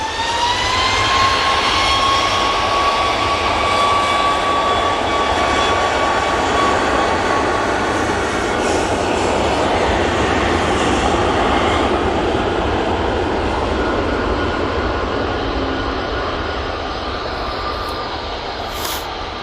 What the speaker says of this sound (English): that Ryanair 737 MAX 8 is off to Tenerife